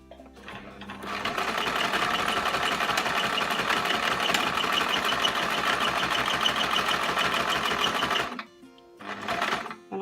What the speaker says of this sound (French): je m'excuse d'avance pour le bruit de la machine